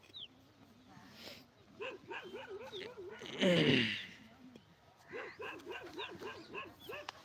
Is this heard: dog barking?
yes